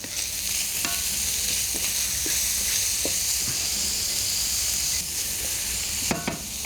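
Jalapeno is stirred into bacon frying in a pan, giving a steady, close sizzle with scattered scraping taps from the stirring.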